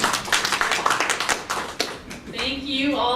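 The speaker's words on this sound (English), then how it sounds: "let's give one more round of applause for all of our wonderful speakers today." Audience applause for the speakers at a Denver bike-to-work event, a dense burst of close, loud clapping that thins out after about two seconds as voices begin to talk underneath.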